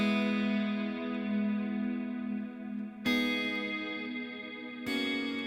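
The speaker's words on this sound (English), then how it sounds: "This is called Black Hole, and it's a really dreamy, atmospheric reverb." Guitar chords ring out through an Eventide Black Hole reverb, long sustained dreamy wash with two fresh strums cutting in, each blooming into a pad-like tail.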